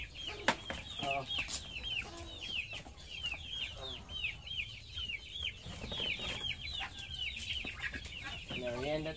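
Chickens cluck steadily and fairly close at feeding time on a farm, with overlapping calls and a rooster-like crow now and then over a busy background.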